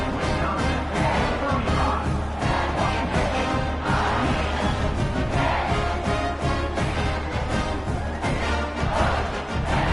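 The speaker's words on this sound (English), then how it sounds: "this crowd is buzzing after that last score" A stadium crowd buzzes in a college football video game after a score, a dense continuous roar with gently swelling surges, steady and loud throughout.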